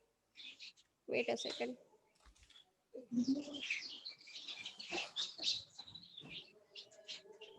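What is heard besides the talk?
birds chirping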